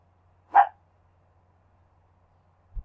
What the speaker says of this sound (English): This dog always comes out here when I'm out here.